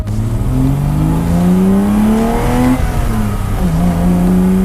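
An old 1987 BMW 325is E30 coupe engine revs and pulls steadily through the gears, its droning pitch rising and falling continuously, loud and close, with no voices.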